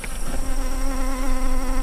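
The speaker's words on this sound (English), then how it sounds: "That's a line of 60 hives and well over 2 million bees." Honeybees drone loudly and steadily around a line of sixty frame hives in Africa, a dense close buzzing with no talk.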